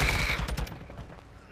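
Loud gunfire in a multiplayer shooter match, a rapid close burst of shots that fades quickly into quieter game noise.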